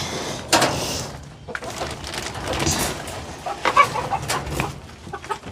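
A rooster and hens cluck and squawk around a coop, a busy overlapping stream of calls with sharper bursts scattered throughout, close and moderately loud, with some rustling of a cage being moved.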